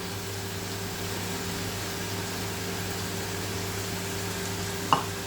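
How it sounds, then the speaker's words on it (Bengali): Half-boiled potatoes and spices fry in a pan for a banana-stem curry with small shrimp, giving a steady, even sizzle throughout, with one brief clink near the end. "ছোটটা মশলার সঙ্গে এবার কষিয়ে নেব"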